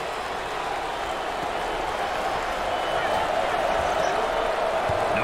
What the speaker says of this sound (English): Number 32 is receiving enthusiastic response from the crowd.